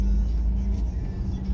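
Bus driving past on a road between Eccles and Diamond, a steady heavy low engine rumble with continuous road noise close by throughout.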